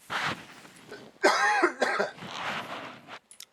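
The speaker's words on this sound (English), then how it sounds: "I'm just going to cough real quick." A few close, harsh coughs in short bursts, followed by a brief throat-clearing sound and then quiet.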